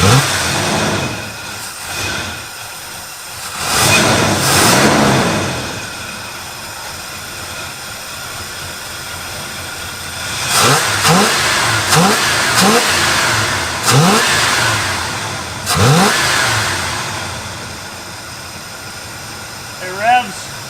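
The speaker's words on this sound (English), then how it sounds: "It revs super crisp, like perfect." An abandoned barn-find Oldsmobile engine, revived after 23 years, is revved repeatedly in sharp bursts, each climbing and falling back to a rough idle. The engine is close and loud, with people talking in between.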